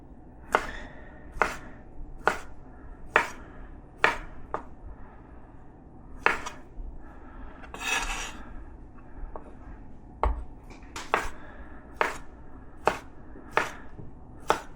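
A knife slices through sausage on a diagonal while preparing feijoada, giving crisp, close chopping taps in a steady rhythm of roughly one per second, with a brief irregular pause midway before the even strokes resume; no talking.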